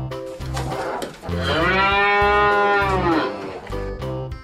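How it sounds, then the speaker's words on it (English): Cow mooing, one long loud low moo held for about two seconds, close and clear over a steady rhythmic backing beat. "Cow."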